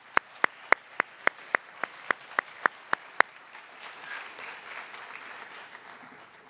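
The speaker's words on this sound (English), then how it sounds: "Please join me in one more round of applause for all of our scholarship award winners" At a high school athletic awards event, a round of applause for scholarship award winners starts as about a dozen evenly spaced, sharp single claps, then softens into a low, diffuse patter of scattered clapping.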